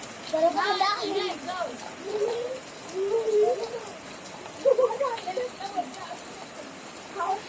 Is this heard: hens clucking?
no